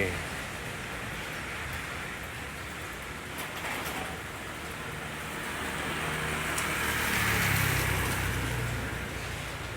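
Steady rain falls on a Sunday morning, a continuous soft broadband hiss that swells slightly toward the end, with no voices over it.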